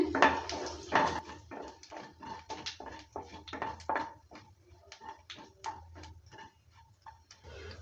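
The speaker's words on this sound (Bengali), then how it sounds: "শুকনো লঙ্কাটা আর কালো জিরেটাকে একটু নেড়ে চেড়ে নিয়ে ভেজে নিচ্ছে" Dry red chillies and black cumin seeds stirred in frying soybean oil, a spoon or spatula ticking and scraping against the pan in steady, close strokes over a faint low hum.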